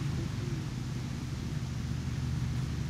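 Warthog vehicle in the Halo Anniversary game driving with a steady, loud low engine rumble and hiss, continuous and even throughout with no talk.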